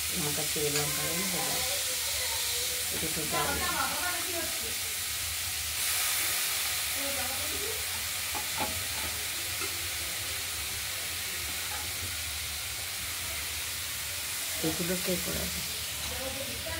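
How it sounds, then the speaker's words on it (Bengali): Radish and banana stem frying in a wok with a mustard seed tempering: a steady sizzle and hiss runs throughout, with intermittent stirring and scraping sounds, recorded close. "এটা আমরা কড়াইতে সর্ষে ফোড়নের মধ্যে দিয়ে দিলাম"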